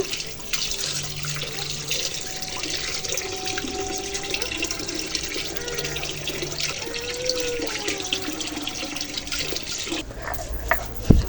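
Rice being washed under a running tap in a home kitchen, a steady close rush of water into a bowl or sink that runs the whole time, with faint clinks and a small knock near the end.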